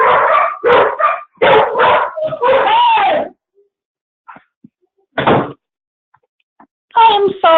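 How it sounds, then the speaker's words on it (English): Several dogs from one household barking loudly and close, in rapid bursts and yips, then a quiet gap with a single bark and another burst at the end. "I have 4 dogs and they're not happy right now"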